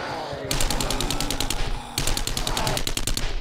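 Rapid automatic gunfire in 7 Days to Die, loud bursts of regular shots striking a player-built base, two sustained volleys separated by a brief pause, close and harsh.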